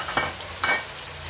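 Milkfish and vegetables being stirred in a frying pan, with two brief scraping stirs over a steady soft sizzle of hot oil, close by and without talk.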